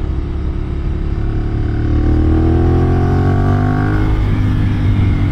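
A loud Ducati Monster 796 motorcycle engine drones steadily, then revs up with rising pitch as it accelerates, heard close and continuous with no voices.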